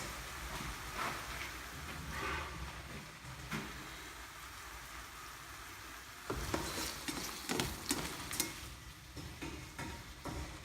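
Tomatoes sautéing with soft onions in an oiled pan for tomato sauce, a fairly quiet, steady sizzle and stirring with a few sharper clatters and scrapes in the second half.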